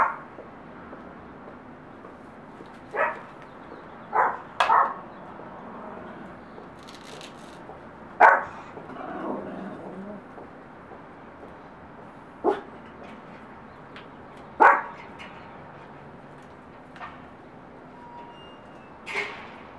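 A dog barks in short, separate bursts of one or two barks, spaced a few seconds apart over a quiet background, at moderate distance, as a quadcopter is set up.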